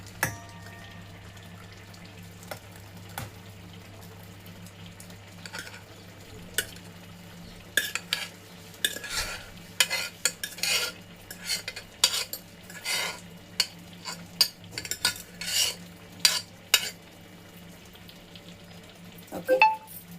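A metal spoon scrapes and clinks against a bowl as cooked amaranth-leaf and chana dal curry is transferred into another bowl, irregular close scraping strokes that grow busier toward the middle, over a steady low kitchen hum.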